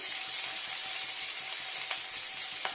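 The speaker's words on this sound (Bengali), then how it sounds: "এটা রসুন এটা থেতো করা, আর পেঁয়াজটা কুচানো, পুরো ফ্রাই করে নেব।" Chopped onion and crushed garlic frying in a pan for a spinach and paneer dish, giving a continuous bright sizzle with a couple of faint clicks, no voices.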